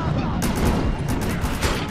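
Dense, loud gunfire crackles nonstop in the co-op shooter game Defiance, overlapping shots blending into a continuous barrage, with a voice faintly underneath.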